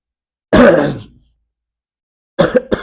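A single harsh cough or throat-clearing up close, then after a pause a couple of shorter rough coughs.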